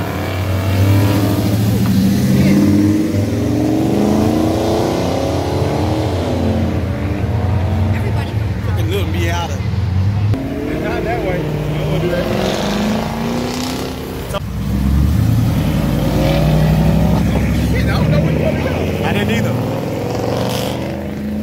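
A 5.0 muscle car leaving a car show revs hard and loud close by, its exhaust rising and falling through several throttle blips while onlookers talk and shout over it.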